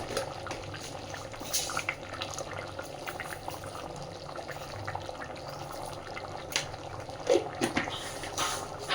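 A pot of vegetarian rice-and-lentil khichuri simmers on the stove, giving a soft, continuous bubbling with occasional sharper pops and clicks, fairly quiet and with no talk.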